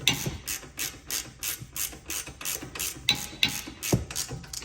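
A hand ratchet clicks in quick, regular strokes while tightening the rear brake caliper bolts on a BMW 3 Series, loud and close with no talking, each pull giving a crisp burst of pawl clicks.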